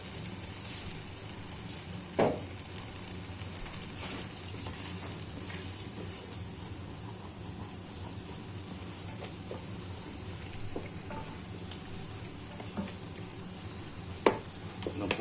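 Beef bourguignon simmering in a pan after the marinade wine is added, giving a steady soft sizzle and bubbling hiss with a few brief clinks of a utensil, close and continuous with no talking.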